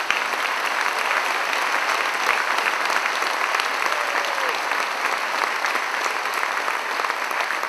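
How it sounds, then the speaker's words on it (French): An audience claps at a centenary stage show for the choir La Voix du Léman, themed on Broadway: dense, steady applause fills the whole stretch at an even loudness, with no talking. "un grand merci à vous, très cher public, pour vos applaudissements"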